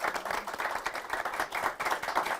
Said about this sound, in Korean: 저기 오늘 수고하신 MC분들 박수 부탁드리겠습니다